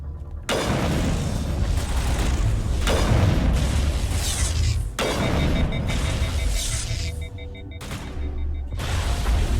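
Heavy gunfire erupts in a Mass Effect firefight, loud bursts of rapid weapon fire with booming impacts, broken by brief pauses between volleys and continuing close and intense throughout.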